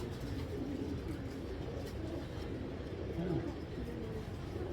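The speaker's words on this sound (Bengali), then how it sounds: "জাস্ট এই একটা কবুতর দেখেন।" Racing pigeons at a loft give low, repeated coos over a steady murmur of background noise, with what sounds like faint voices nearby.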